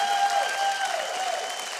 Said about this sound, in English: if you're wondering why this audience is clapping